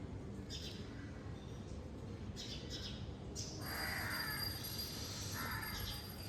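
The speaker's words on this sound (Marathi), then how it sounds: "पक्ष्यांचा आवाज, पूर्ण शांतता." Crows caw in the quiet early morning beside a petrol pump, a few short harsh calls from different distances standing out over a steady low background rumble, with no voices.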